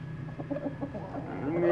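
Aseel hens and a rooster clucking in short, choppy bursts close by, with a rising squawk at the end.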